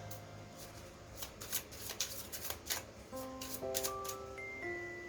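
Tarot cards are shuffled and laid out in a quick, crisp run of near flicks and slaps, with a soft tonal melody playing in the background.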